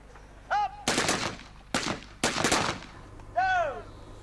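Gunfire on a 25-metre shooting range during Royal Marines recruit training: a few loud, sharp reports with ringing tails in an uneven sequence, plus short voice-like tonal bursts between them.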